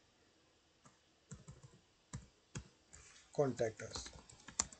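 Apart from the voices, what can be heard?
typing on a computer keyboard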